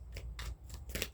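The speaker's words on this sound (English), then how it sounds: "One more good shuffle, I think." Tarot cards being shuffled by hand before a Celtic cross reading: three quick rustling bursts of riffled cards, close and fairly soft, with no talking.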